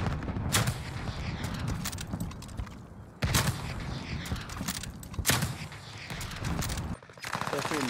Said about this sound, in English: They're shooting the dude on his back.